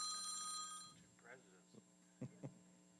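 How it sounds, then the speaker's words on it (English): A mobile phone rings during a federation membership meeting, its steady electronic tone clear and fairly loud for about a second before cutting off, followed by short quiet knocks and room noise. "Whose phone is that?"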